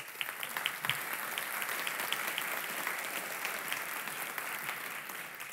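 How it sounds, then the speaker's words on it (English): Audience applauding panelists at a WRR lecture discussion panel on the open society, a steady dense clapping that holds evenly throughout with no talk over it. "So give them a warm applause, please."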